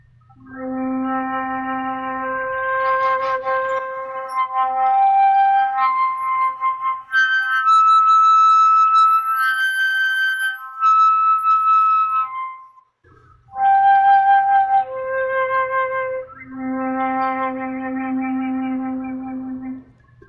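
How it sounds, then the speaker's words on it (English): Flute stepping up the overtone series on a single fingering from middle C, sustained breathy tones leaping higher in turn with brief gaps, close and solo, no talking. "So I like to play overtones on the flute."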